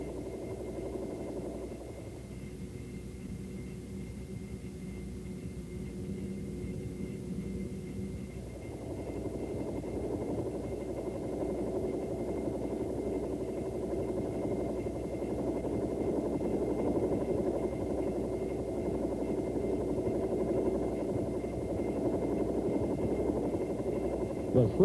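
A Bell AH-1 Huey helicopter in flight, a steady low rotor and engine drone running throughout at moderate level, while someone speaks over it most of the time.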